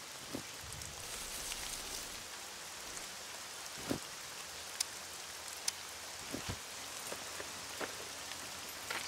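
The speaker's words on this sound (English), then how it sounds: "It's raining." Rain falls steadily in the survival video game SCUM, a continuous soft patter of drops on surfaces with a few sharper isolated drips, fairly quiet throughout.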